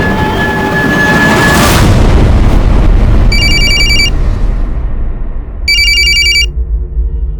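Telephone ringing during a crime drama scene: two short bursts of electronic ringing over a loud, rumbling background.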